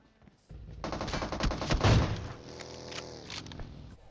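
Gunfire from the video game PUBG Mobile, with a sharp burst of rapid automatic shots, a dense volley and then several more scattered shots over about three seconds.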